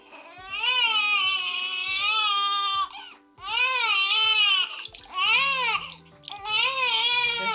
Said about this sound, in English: Grandma's washing her hair with this Johnson's baby head to toe wash.